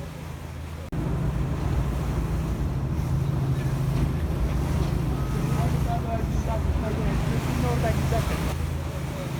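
Steady rumble of a ferry engine in Istanbul with wind and water wash, continuous and fairly loud, with faint voices and tonal sounds in the background.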